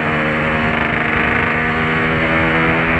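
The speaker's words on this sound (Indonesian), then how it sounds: "Kita coba slip-slip dulu sekalian manasin mesin teman-teman." An old two-stroke Grand Prix motorcycle engine warms up, giving a steady, dense buzzing drone that runs unbroken and close at fairly high volume, with no one talking.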